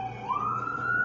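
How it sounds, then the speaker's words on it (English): An emergency vehicle siren outdoors a few blocks from a hospital on a snowy day, a loud tone that rises in pitch and then holds steady. "And all I hear is sirens because the hospital is 3 blocks away."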